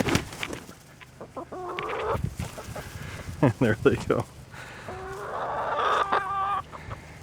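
Chickens cluck in repeated bursts close by, with a few brief louder calls, while a person speaks over them at intervals.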